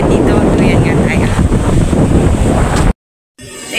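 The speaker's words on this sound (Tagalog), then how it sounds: "Super, super hangin talaga." Strong gusting wind at a beach in Boracay buffets the microphone in a loud, constant roar, with surf faintly beneath, before a sudden brief silence and the blustering resumes.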